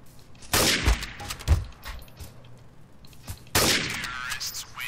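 Loud gunfire from the video game Counter-Strike: Source, a shotgun among the weapons, with a few sharp close shots followed by a sustained burst of firing.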